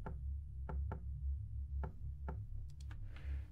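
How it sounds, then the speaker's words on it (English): Knocks on a door in a video game tap out a pattern, with single and doubled knocks spaced irregularly over a low droning background, followed by a brief rattling shuffle at the end. "if you knock it on the door in the exact same like pattern"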